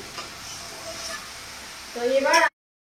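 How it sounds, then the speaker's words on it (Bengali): Half-fried fish, for a pointed gourd and prawn curry, sizzling in hot oil in a pan with a low steady crackle, a brief utensil scrape near the end, and faint talk underneath. "এখানে আমার মাছ হাফ ভাজা হয়ে গেছে"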